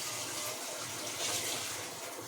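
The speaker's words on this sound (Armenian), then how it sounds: "Մի քիչ ջուր ավելացնենք։" Water pouring steadily into a pot of chicken set to boil in a home kitchen, a continuous close gushing splash that runs unbroken and fairly soft.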